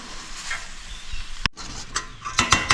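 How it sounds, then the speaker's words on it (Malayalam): Prawn roast masala is stirred in a pan, with scraping spoon strokes and metallic clinks over a soft sizzle, including a sharp knock midway and quicker clatters near the end. "ഇത് നന്നായിട്ടൊന്ന് ഇളക്കിയെടുക്കാം"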